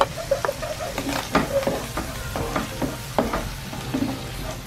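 Mushrooms frying in a pan for carbonara, a close crackling sizzle broken by repeated scraping stirs and taps of a utensil, moderately loud with no talking.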